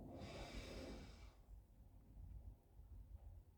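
A slow, deep breath drawn in through the nose during a guided relaxation breathing exercise, a long airy inhale lasting about a second, close to the microphone, then quieter breathing.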